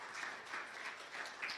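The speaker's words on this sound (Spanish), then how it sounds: "Denle un fuerte aplauso al Señor," Quiet church congregation clapping in praise at the close of a Spanish-language service, a soft continuous patter of hands heard from a distance.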